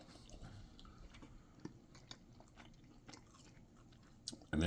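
Close-up chewing of crispy oven-baked pork belly burnt ends, with soft irregular crunchy bites and wet mouth sounds at a low level, ending in a louder thump.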